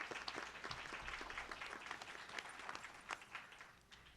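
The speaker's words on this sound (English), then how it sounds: "So let's give our panel a round of applause" Audience applauding a panel at a Founders Day event, a steady patter of many hands clapping, fairly faint and distant, gradually thinning toward the end.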